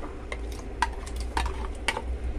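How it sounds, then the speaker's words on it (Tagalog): A spoon stirs ginataang bilo bilo with sago and jackfruit in a pot, giving soft scraping and a few brighter clinks against the metal. The sounds come in loose intermittent strokes over a low steady background hum. "Haluin natin ng konti."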